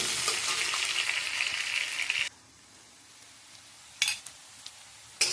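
Onions frying in a pan for a home-cooked chilli chicken meal, a loud steady sizzle for about two seconds that suddenly drops away, followed by quiet with a few brief scraping bursts.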